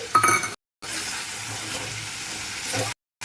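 Chicken and potato pieces fry and get stirred in oil for masala chicken biryani, giving a soft continuous sizzle with faint utensil clinks, cut by two short silent gaps.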